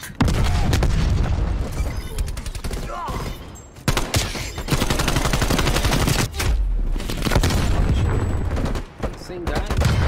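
Frag grenade explosion amid a Call of Duty Cold War firefight, heavy booms and dense rapid gunfire pounding nearly nonstop, loud and close, with brief voice callouts mixed in.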